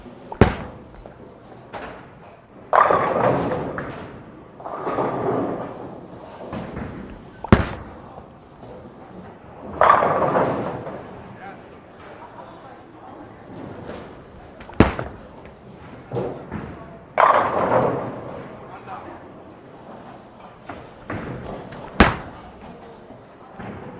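Bowling balls are rolled down a lane and strike the pins, each shot building as a low rumble that ends in a sharp crash, repeated several times at regular intervals with no speech.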